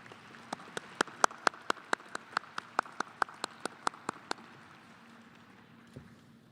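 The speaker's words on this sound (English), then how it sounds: "Please applaud." Scattered hand claps from a small audience at a 2021 Medical College of Georgia hooding ceremony, about sixteen crisp, evenly spaced claps over four seconds that then stop, leaving quiet room tone.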